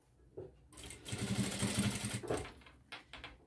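A sewing machine runs a short stitching burst along the edge of fabric, sewing a close seam beside an existing seam on a sunflower-print zippered box pouch; the motor hums steadily for about a second and a half and stops, with no talk.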